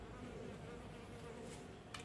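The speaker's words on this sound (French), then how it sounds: "il y a une mouche tout d'un coup qui m'embête" A housefly buzzing around indoors, a faint, continuous hum that drifts steadily through the whole moment, with no talking.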